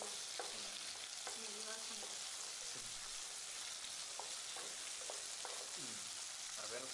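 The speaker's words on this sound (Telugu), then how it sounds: "పచ్చిమిరపకాయలు వేగిన తర్వాత టమాటా ముక్కలను వేయాలి." Tomato pieces fry with green chillies in a pan, a steady bright sizzle with occasional stirring scrapes and clinks over it.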